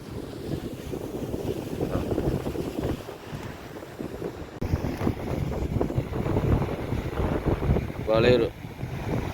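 Rough sea waves on Besant Nagar beach in Chennai, a continuous roar of surf mixed with wind buffeting the microphone, with a person talking over it.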